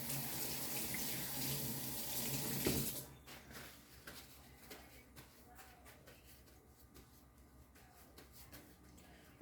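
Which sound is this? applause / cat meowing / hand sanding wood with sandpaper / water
water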